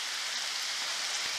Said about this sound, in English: Torrential rain, thunder, lightning, you name it.